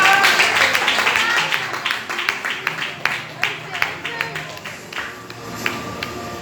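A church congregation applauding the Lord, ragged clapping that thins into scattered individual claps as it fades, with a voice speaking over it.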